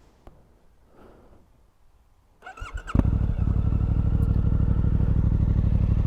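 Suzuki V-Strom 800DE with an aftermarket exhaust, quiet handling noises, then the engine starts and settles into a loud, steady, close idle with a throbbing low rumble.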